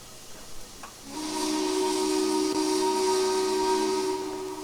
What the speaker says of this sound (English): The ever notable pop on K&L's whistles, but the whistle sound is quite nice.